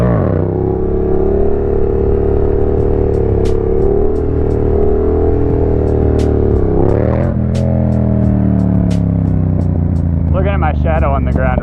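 Close, loud engine drone from a Yamaha FZ-07 motorcycle during wheelies, holding steady revs, then dipping and climbing again partway through, with rushing wind over it.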